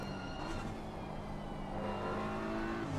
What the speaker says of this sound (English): I'm just a bit struck by the difference in sound between the Audi and BMW